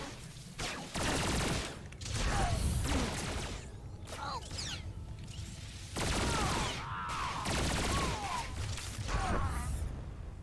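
Blaster gunfire from Star Wars: The Old Republic on Tatooine comes in loud bursts separated by brief pauses, with game voices and effects mixed among the shots.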